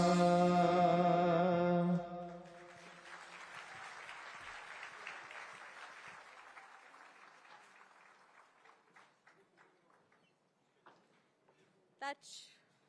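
After a patriotic song ends, an audience at a ceremony honouring the armed forces applauds, a moderate spread of clapping that thins into scattered claps, with a brief voice near the end.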